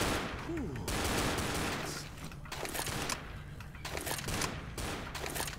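Rapid SMG and shotgun fire in the zombie shooter game Left 4 Dead, a loud, dense and continuous barrage of shots with mechanical clatter throughout.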